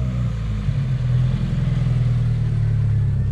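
An aftermarket air intake on a Toyota GR86 or Subaru BRZ gives a steady, close, loud induction drone while the engine revs, with a low rumbling hum that pulses slightly and no talking.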